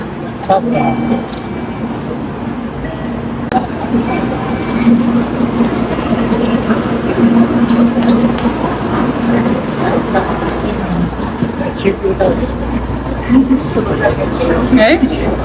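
Steady rumble of a moving Japanese bullet train fills the background while people talk over it throughout.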